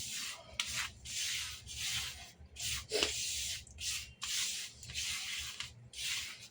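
Semolina, rice flour, salt and masala mixed together by hand, a soft gritty rubbing and rustling in repeated strokes with short pauses, close and fairly quiet.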